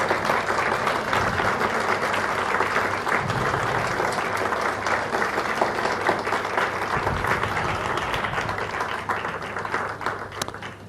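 Sustained applause from a large crowd at a church service, dense and steady clapping that fills the whole stretch without letting up.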